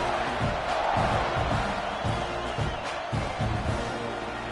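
Football stadium crowd at a college game against Texas roars at kickoff in a loud, continuous wash of cheering, with rhythmic pulses and a commentator's voice over it.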